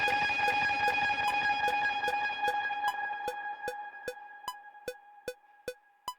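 Guitar run through heavy delay into distortion, a chaotic wash of sustained tones with regular repeating echo hits that thin out and ring alone toward the end.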